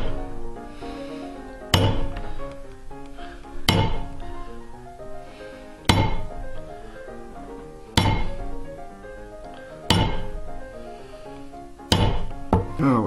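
Steel hammer strikes a leather stamping tool worked along a belt, sharp single blows landing roughly every two seconds, close and crisp, with music playing underneath the whole time.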